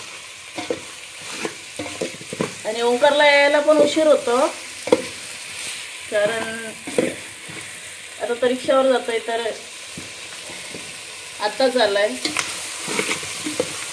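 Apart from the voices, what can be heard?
frying spices in oil in a pan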